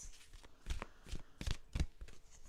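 Tarot cards shuffled by hand close up, a quiet run of four or five crisp riffling bursts in an uneven rhythm, with no talk.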